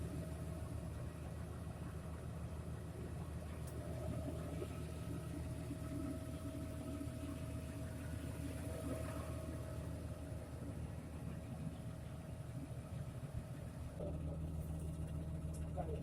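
A tractor engine idles steadily, a low even rumble with faint mechanical hum continuing throughout.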